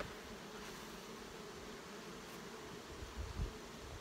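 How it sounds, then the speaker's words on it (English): Honey bees buzzing on a frame of comb during a hive inspection, a steady dense hum throughout with a brief louder low thump near the end. "we just shake all the bees off the comb."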